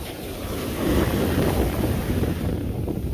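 Rough sea surf rolls in at Golden Sands beach in Bulgaria under a red flag on an overcast day, a continuous low roar of breaking waves with heavy wind buffeting the microphone, no talk.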